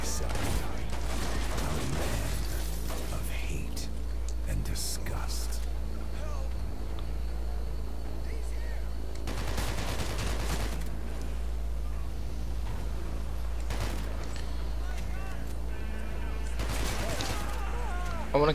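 Shotgun blasts in the video game Hatred, a few heavy booming bursts spaced across a noisy game soundscape with a constant low rumble.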